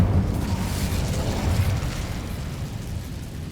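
A fiery Incendio spell blast from Hogwarts Legacy erupts in a loud, sustained rumbling burst with crackling flame texture. The heavy low roar holds steady for several seconds before easing slightly.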